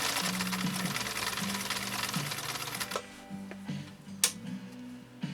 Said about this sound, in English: 2 layers of vegetable tan leather. Now we're laying down a straight stitch.